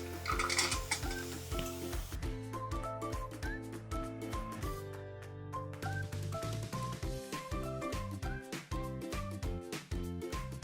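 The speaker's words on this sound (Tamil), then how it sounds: "இதையும் இது கூட சேர்த்து நல்லா வதக்கிக்கலாம்." Cut beetroot being sautéed with spices in a pan, heard as a soft sizzle with stirring and scraping of a utensil against the pan, and bright instrumental music playing loudly over it.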